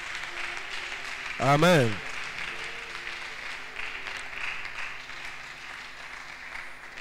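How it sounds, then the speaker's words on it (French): A church congregation applauds Jesus during a sermon, a steady moderate patter of clapping running through the whole stretch, broken near the start by a voice calling out. "Est-ce qu'on peut acclamer Jésus?"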